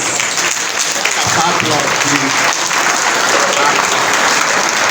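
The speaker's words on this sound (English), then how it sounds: "a sounding round of applause for this great transformation" Loud, steady applause comes from an audience at an induction ceremony for new medical graduates. The dense clapping holds at an even level throughout, with faint crowd murmur mixed in.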